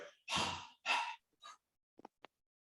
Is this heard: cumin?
no